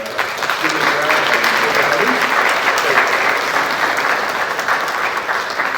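An audience at a fall concert applauds steadily, dense hand clapping filling the room at an even, moderately loud level with no talk over it.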